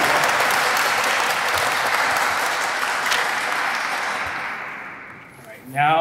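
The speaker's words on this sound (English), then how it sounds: "Let's give her a round of applause." Warm sustained applause from an audience at a Hispanic Heritage Month closing ceremony, many hands clapping steadily before tapering off, followed by a voice starting to speak.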